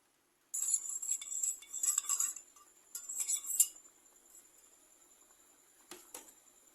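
A spoon stirs cornflour mixed with water, giving quick close clinking and scraping in bursts over about three seconds, then a few faint taps and one sharp knock near the end.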